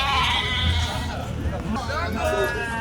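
Sheep and rams bleating among a busy crowd at a city livestock market, with people talking and haggling over the animals throughout; the bleats are wavering and mid-distance.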